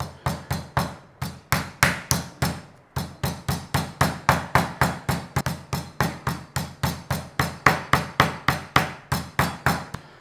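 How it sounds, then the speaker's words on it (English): A hammer pounds wrapped chicken steadily and rapidly, dozens of evenly spaced thuds continuing without pause at close range. "Take your hammer, don't smash it to pieces."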